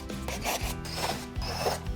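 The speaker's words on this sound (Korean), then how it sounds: "테두리에 있는 나사 하나, 둘, 셋, 4개를 먼저 분리해 주겠습니다." A screwdriver backs screws out of the plastic rim casing of a Winia Dulle-baram stand air conditioner. Three close, gritty scraping bursts follow one another with no voices.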